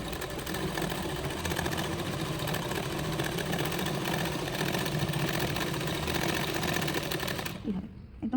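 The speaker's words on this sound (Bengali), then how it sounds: "প্রথমে একটা সেলাই করে নেওয়া হচ্ছে" Sewing machine stitching blouse fabric along the edge, a steady fast mechanical whir with a rapid needle rhythm, close and continuous until it stops abruptly near the end, with someone talking faintly underneath.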